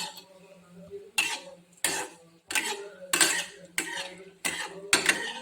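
A metal utensil scooping fried bitter gourd (pavakka) out of a pan, with about seven distinct scraping clinks at a steady pace, close up and fairly loud.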